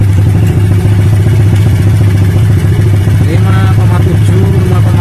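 A Honda Blade motorcycle with a weak, newly replaced battery runs at a steady idle, its loud, close, even engine drone continuing throughout with faint clatter.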